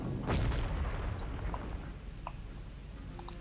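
Artillery fire at a ship in a WWII strategy video game: a single loud booming shot near the start, then a decaying rumble with faint ticking.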